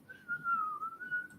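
A person whistles a tune, one steady melodic line gliding slightly down and back up, clear and fairly close, with no talk.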